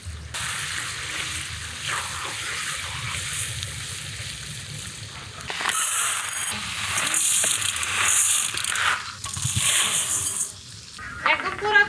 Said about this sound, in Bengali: আগে ফোরনের তেলে মাংসের পিসগুলো ভাজা ভাজা করে নিই